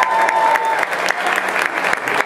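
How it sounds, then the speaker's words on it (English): Steady applause from an audience at a barbecue competition awards ceremony, dense and continuous hand-clapping at close range with a faint crowd murmur underneath. "One more round of applause for here,"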